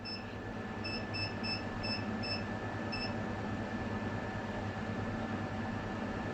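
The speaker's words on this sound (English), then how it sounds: "Something is beeping and I don't know what it is." Faint electronic beeps, about six short evenly spaced pips, sound over a loud steady hum and whir of running equipment during a full-power inverter battery discharge test.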